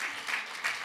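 Brief burst of audience applause at a conference on children and domestic violence, soft and short.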